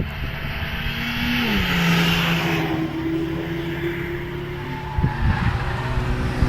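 A Seat Ibiza race car climbs the Harewood hillclimb course in British Hillclimb practice, its engine tone steady and then rising in pitch as it passes at moderate distance, with a few sharp knocks near the end.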